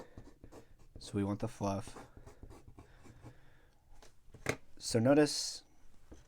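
A pencil sketches a canine furry figure on paper, its light scratchy strokes coming in short bursts beneath a person talking steadily.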